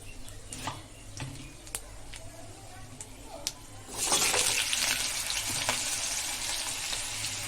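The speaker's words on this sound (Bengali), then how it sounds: "একটু পাঁচ ফোড়ন দিই দিয়ে আলুটা ছেড়ে দিই" Potatoes drop into hot oil with panch phoron, and a loud, bright frying sizzle bursts up partway through and keeps hissing steadily. Faint kitchen ticks come before it.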